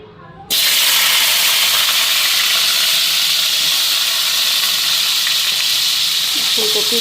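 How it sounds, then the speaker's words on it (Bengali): Cauliflower hits a hot kadai with cumin tempering and bursts into a loud, steady sizzle and hiss after a brief quiet start, frying continuously with a few faint clinks near the end. "কড়াই বসাইয়া দিলাম জিরা ফোড়ন দিয়া দিছি ফুলকপিটাও ধুয়ে নিলাম ফুলকপিটা দিয়া দিই"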